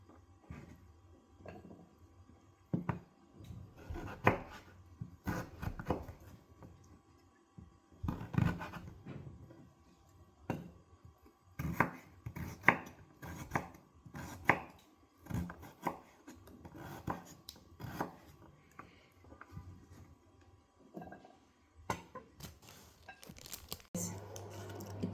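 Knife chopping carrots into cubes on a cutting board, giving bursts of close, crisp cuts with short pauses in between and quiet room sound under them.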